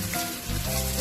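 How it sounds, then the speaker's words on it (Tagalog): Crispy bagnet pork sizzles and fries steadily in a hot pan in a home kitchen. The sound is a loud, close crackle with a brief clatter of stirring partway through. "Ngayon, gigisa natin yung bagnet."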